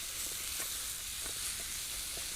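Cheese stirred through food in a pan over a hobo twig stove in a UK woodland, giving a steady close sizzle with a few soft scraping stirs.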